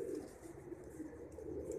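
Soft, low cooing of breeder pigeons runs steadily throughout, a murmuring flock close by with no voices, in Lahore.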